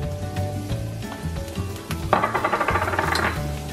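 Minced garlic hits very hot oil over high heat, giving a loud close sizzle and crackle that swells partway through, with the clink of a utensil stirring in the pan.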